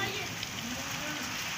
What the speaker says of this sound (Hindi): बच्चे एंजॉय कर रहे हैं जी बारिश को।